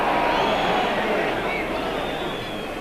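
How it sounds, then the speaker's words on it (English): A 1986 rugby test match crowd reacts to a referee's knock-on decision with a broad swell of murmuring and jeering, and a commentator talks over it. "The crowd doesn't like the decision"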